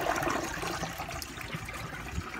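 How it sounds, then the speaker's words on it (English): Water siphons out of a high-mounted toilet tank through its pipe with a steady, fairly quiet rushing gurgle that carries on evenly for a couple of seconds, without speech. "all I have to do is just block this and then let it go, and then it'll siphon out"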